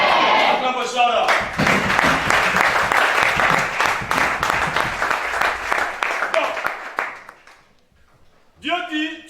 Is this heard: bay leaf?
no